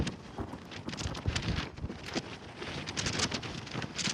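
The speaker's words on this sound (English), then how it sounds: "Wind is relentless. Relentless up here." Strong, steady wind gusts buffet the microphone on the rocky summit tablelands of Mt Katahdin, a continuous roaring rush with no other sounds.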